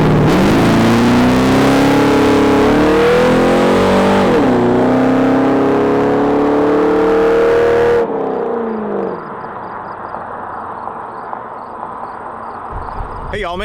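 A 1963 Buick Riviera from Nichols Paint and Fab drives past loud and close. Its engine note climbs through several revving pulls for about eight seconds, then drops away to a quieter, distant background.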